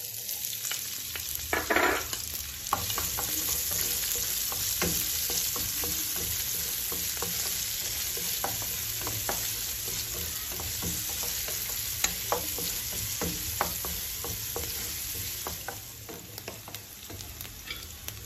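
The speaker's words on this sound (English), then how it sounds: "In the same pan, I put some oil and I will let it heat before I put the onion." Onion frying in hot oil in a pan, a steady loud sizzle throughout with scattered stirring clicks and scrapes, no voices.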